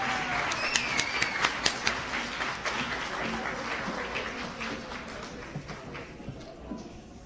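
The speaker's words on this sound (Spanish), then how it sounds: "Así que nuevamente un aplauso para ellos." An audience at a children's Christmas concert claps in a moderate, steady round of applause, with a few sharper nearby claps standing out early on before it slowly thins.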